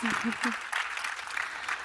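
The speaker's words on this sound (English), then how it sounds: "big round of applause" An audience applauds award-winning panelists at a business panel event, a steady crowd clapping that fills the short stretch at moderate level, with a brief voice at the start.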